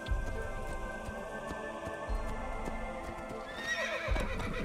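A horse in the video game Assassin's Creed whinnies as it pulls to a stop, hooves clopping beneath a bright neigh over a steady game soundscape.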